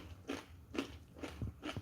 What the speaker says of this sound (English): Hopefully you guys can hear how crunchy it is.